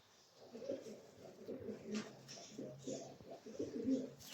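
Andijan pigeons coo softly in low, rhythmic bursts, fairly quiet, with faint human voices mixed in the background.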